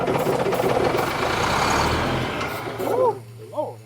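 An old truck's engine is cranked over by its starter, a loud rough churning that runs for about three seconds and then cuts off, followed by brief squealing chirps as a belt shreds.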